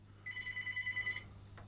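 A single short telephone ring tone, heard while a radio presenter dials a guest over the line: a brief warbling electronic trill, fairly faint, over a low steady hum, with no talking.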